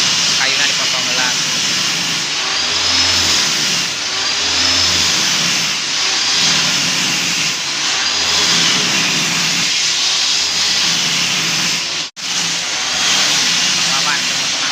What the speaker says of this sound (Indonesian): Keur motong kayu. Kayuna dipotong heula.